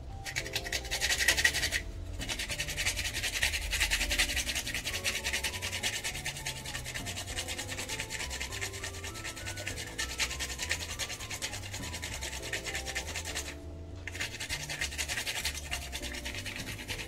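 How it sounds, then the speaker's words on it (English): Whole nutmeg grated by hand for a Jamaican Easter bun, a close, steady scratchy rasping that runs almost continuously, with two brief breaks, over soft background music. "So I'm grating about 2 teaspoons of nutmeg."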